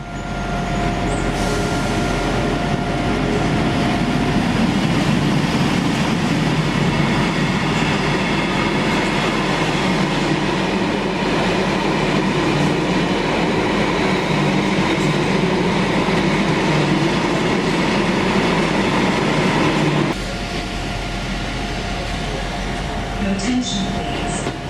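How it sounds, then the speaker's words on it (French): A freight train passes through Chester station in a loud, sustained rumble with rail clatter and screeching wheels that continue without letup, heavy and close throughout, with faint station noise. "Un train de marchandises de l'entreprise privée Colosrail traverse la gare."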